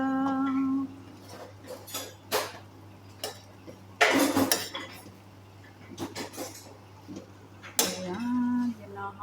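Spring roll filling mixed in a bowl with utensils, irregular clinks and scrapes of metal against the dish in short bursts, close, with a brief low hum between strokes.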